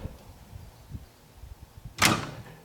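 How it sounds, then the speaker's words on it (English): A stiff soft-close drawer in a 3D print shop gets pulled open, a few faint scrapes followed by one sharp, loud pop as it jumps free. "when I go to pull this drawer open, and I got to pull it in the center, it's a little stiff, and then pop, it jumps."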